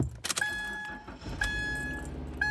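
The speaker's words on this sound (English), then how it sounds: "All right, started the car." A Subaru XV Crosstrek starts up with a sharp click and brief crank, then settles into a steady idle, with a few metallic key or latch clicks nearby and no talking.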